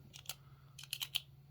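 Retractable clicker pen in olive drab green clicked several times, giving faint, sharp little clicks in a quick irregular cluster near a quiet background.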